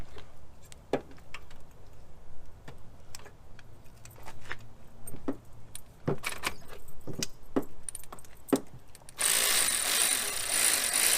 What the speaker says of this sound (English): Now I'm taking this alternator bolt off right here.